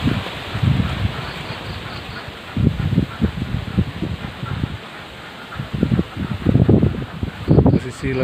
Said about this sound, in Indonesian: hujan beserta angin-anginnya.